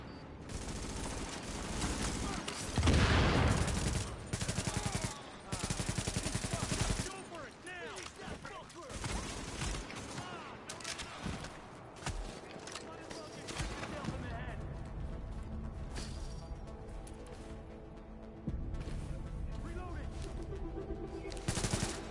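Sustained automatic gunfire from hostiles attacking a supply drop in The Division rattles in dense bursts, loudest early on and continuing under game sound effects and spoken alerts.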